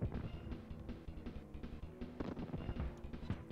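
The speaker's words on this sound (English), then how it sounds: "Oh, it's cannons." Cannons fire in a Super Mario World boss stage, a run of sharp blasts over busy game music and effects with no voices.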